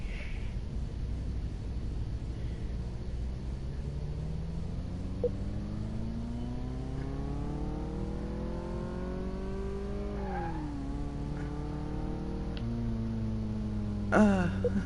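In Car Mechanic Simulator 2018, a game car's engine drones steadily as it drives, its pitch climbing through gear shifts and briefly dropping before rising again, with a short sharp noise near the end.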